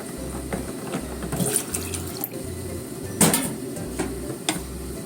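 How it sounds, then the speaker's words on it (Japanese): Water poured into a pot of adzuki beans simmering on the stove, a soft steady splashing and trickle with faint clinks of the pot, close and alone. "水を足しながら、"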